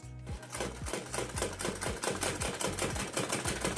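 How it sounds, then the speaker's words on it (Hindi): A sewing machine stitches along the edges of an old cloth runner in a fast, steady, close mechanical rattle of needle strokes, with no talk over it. "तो ये रनर को सिलाई लगा के मैंने इस तरीके से फिनिशिंग दे दी है।"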